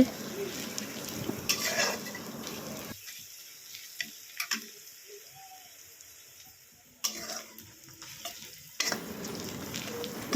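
Onion frying in hot oil for a tomato chutney, a steady close sizzle with spoon stirring scrapes, briefly dropping quieter in the middle before the sizzle returns.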